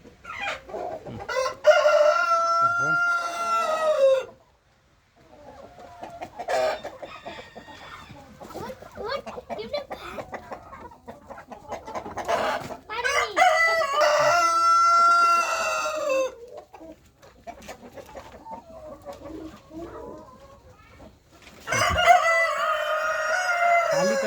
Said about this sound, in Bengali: এদিকে মুরগি আছে দেখো তো এখানে